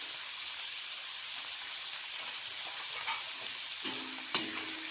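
Vegetables such as peas, beans, onion and carrot fry in a pan for vegetable chow mein, a steady close sizzle and hiss with a couple of faint clinks near the end.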